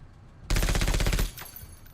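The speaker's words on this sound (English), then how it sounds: "that's a chain gun" A chain gun in a video game fires a rapid, evenly spaced burst of heavy rounds for under a second, loud and close, then stops into quiet background.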